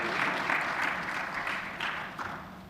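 Audience applause at an annual review panel event fills the room, a steady dense clapping that carries on for nearly three seconds and tapers slightly at the end, with no speech over it.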